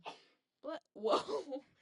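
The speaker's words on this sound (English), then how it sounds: "That was a sneeze." A single sneeze bursts out amid a casual home conversation, followed by short voiced sounds as people react nearby; the sneeze is brief and close.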